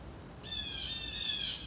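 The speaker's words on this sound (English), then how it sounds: "Listen to the birds." Several birds call back and forth outdoors, a bright layered chorus of high whistled notes entering after a brief quiet moment and continuing steadily at moderate distance.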